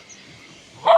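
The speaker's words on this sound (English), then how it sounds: "I'm scared of stray dogs." Stray dogs bark on a neighborhood street in Cambodia, a loud burst of barking breaking out near the end after quiet ambience.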